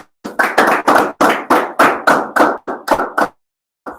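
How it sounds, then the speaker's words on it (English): A small group of people claps in short, loud bursts, about a dozen separated volleys of hand claps in steady rhythm, close by, with no talking, then a sudden stop into silence. "Go ahead, clap it up, man."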